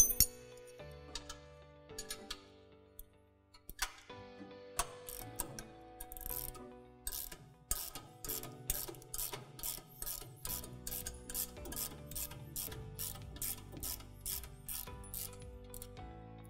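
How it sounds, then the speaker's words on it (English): Steel locking bolt on the rear auger being loosened with an 18mm spanner, a run of metallic clicks and scrapes that settles into a steady, even ratcheting rhythm, close and fairly quiet with no talking. "take our 18mm spanners and loosen the locking bolt"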